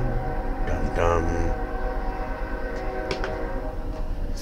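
A passing train's steady rumble fills the scene, with tonal horn-like hums and a brief voice rising over the noise.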